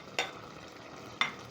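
Potatoes and capsicum cooking in a pan for a pigeon pea curry, a faint low sizzle broken by two quick stirring scrapes, close and quiet with no talk.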